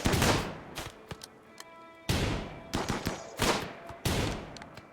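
Video game gunfire crackles in loud bursts and rapid volleys, several separate clusters of shots spaced across the span, with no talking over them.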